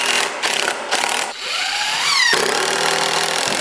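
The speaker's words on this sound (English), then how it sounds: "I'm going to use the drill again, or the impact driver actually, to put in the screws." A drill and impact driver drive screws into the wood of a porch swing: loud, close power-tool bursts with short pauses, then a rising whine and a sustained run as a screw goes in, with no talking.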